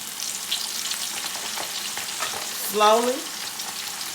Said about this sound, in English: Go ahead, place your wings into your oil.